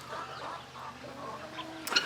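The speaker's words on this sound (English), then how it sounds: "So we've got the chickens and guineas in here." Hens cluck softly and steadily nearby in a farm pen shared with guinea fowl, with a brief sharper squawk near the end.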